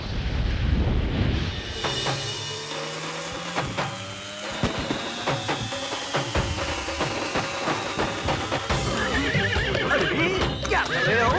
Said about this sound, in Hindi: ये घोड़ा रुक नहीं रहा है।